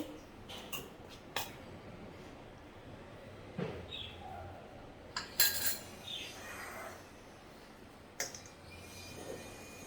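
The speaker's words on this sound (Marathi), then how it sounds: "आता जरा गरम आहे म्हणून मी चमच्याने मिक्स करते" A spoon stirs warm ghee into wheat flour in a bowl for crisp kapnya dough, giving scattered clinks and scrapes against the dish, quiet and intermittent over faint room noise.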